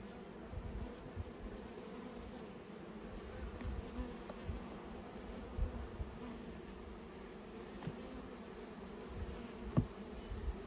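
Honeybees buzz around open hive frames in a faint, steady drone with low handling thumps and bumps scattered throughout, heard alone without speech.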